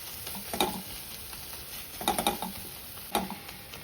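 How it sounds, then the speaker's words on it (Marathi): Softened tomato being mashed with the back of a spoon in a sizzling pan, three short clusters of squelching, scraping presses over a constant frying hiss, close up and without talk. "चमच्याच्या उलट्या साईडने टॅमॅटो आपल्याला स्नॅश करून घ्यायचा आहे"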